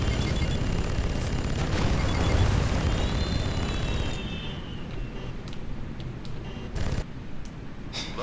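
A bomb explodes in Red Faction II near the Citadel: a loud, rumbling blast with a low, sustained roar that slowly fades, followed by debris clatter and a sharp crack near the end.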